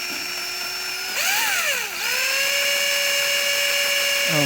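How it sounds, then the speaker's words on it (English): Drill bit boring into knife handle material, a loud, close, steady whine whose pitch dips briefly as the bit bites in, then holds level as the cut settles. "All right, now it's starting to cut."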